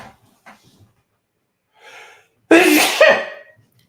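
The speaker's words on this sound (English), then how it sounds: "Now I'm going to sneeze." A single loud, forceful human sneeze bursts out close up after a couple of faint breaths and small mouth noises, then trails off into quiet.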